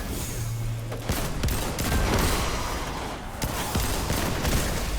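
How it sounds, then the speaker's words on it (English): Rapid shots from a solar hand cannon in Destiny 2 crack out loud over busy game noise, several sharp reports bunched together with a steady rumble of battle beneath. "It's the best solar hand cannon"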